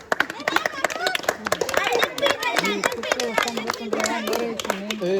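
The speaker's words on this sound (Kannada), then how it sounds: "ಹೊಡೀರಿ ಚಪ್ಪಾಳೆ" People clapping at a family gathering before a wedding, a quick burst of applause mixed with loud overlapping voices and chatter.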